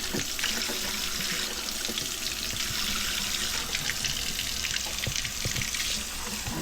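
Warm tap water runs steadily from a faucet for making sourdough, a continuous close splashing hiss with a slight rising fill tone, loud and unbroken with no talking.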